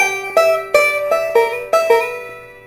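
Banjo picking a Scruggs-style up-the-neck single-string lick variation, seven sharp plucked notes in an even, ringing run, close and clear with no voices.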